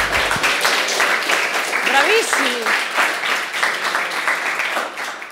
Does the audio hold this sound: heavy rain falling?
no